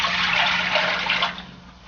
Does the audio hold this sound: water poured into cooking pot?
yes